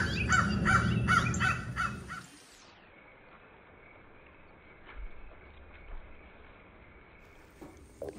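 Crows caw near a pigeon loft: a quick series of harsh, repeated caws rings out close by, then gives way to a steady faint background hum with scattered soft knocks.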